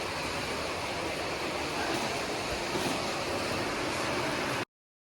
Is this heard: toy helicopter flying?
no